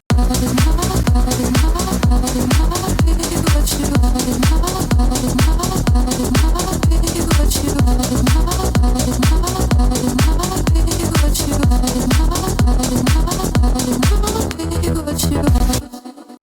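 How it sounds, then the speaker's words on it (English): A loud, dense music passage with a gated vocal effect: rapid rhythmic chopping of the vocals, stuttering on and off in a steady pulse throughout. "that really cool gated vocal effect that seems to be popping up more and more lately"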